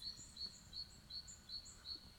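Small birds chirp outside an abandoned villa in the woods, a thin, faint, repeated high note at a regular pace, distant and alone over quiet background.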